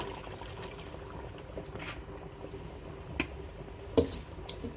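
Reserved washing water poured into a bubbling chicken curry in a pot, a soft continuous trickle and simmering hiss with a few small splashes and clinks, close and quiet.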